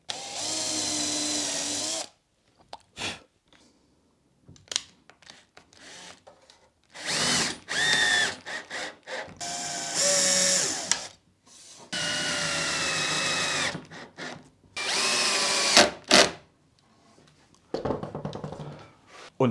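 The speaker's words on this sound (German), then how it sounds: "Bohrer mit so einer Zentrierspitze, um die Löcher richtig" A power drill fitted with a centering-tip bit bores holes in oak wood for an LED lamp, cutting in repeated loud bursts of whirring and grinding separated by short silent pauses.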